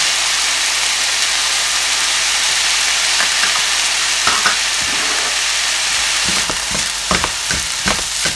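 Fried rice with Chinese sausage tossed in a hot wok, a loud, dense, continuous sizzle with bursts of spatula scraping and stirring near the end, and no talking.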